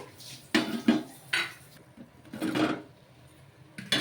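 Fried puffed rice (murmura) vadas being lifted out of oil and set onto a plate, with several clinks of utensil against plate and pan in irregular bursts, close and moderately loud, no talking.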